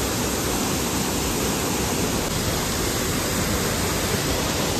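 A waterfall swollen with heavy flow after a day of rain, on the Panhala–Pavankhind–Vishalgad trek route, gives a dense, unbroken roar of rushing water, loud and close with no voices.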